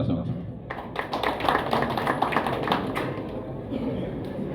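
A crowd claps in a short burst of applause at a political party's tenth-anniversary gathering, rising then thinning out, mixed with voices and chatter in a large room.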